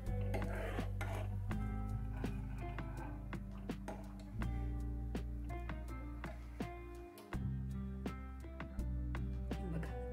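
Cooked kheer being served from a pot into a bowl, with a steady stream of close metallic scrapes and light clinks of a spoon against the pot and bowl over a constant low hum, with no talking.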